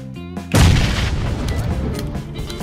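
In the PUBG Lite battle royale game, a bomb goes off with a sudden loud, booming blast after a brief tone, then trails into a long rumbling, crackling decay.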